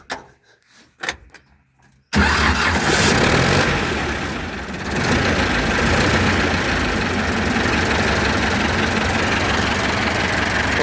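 A T-40 tractor engine cranks after some quiet shuffling and catches, settling into a loud, steady rumbling idle that continues to the end.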